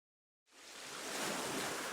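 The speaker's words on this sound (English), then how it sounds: "you can hear the sound of the waves" Steady ocean surf from a video game swells in from silence and holds as a broad, continuous wash of waves, fairly close and even, with no voices.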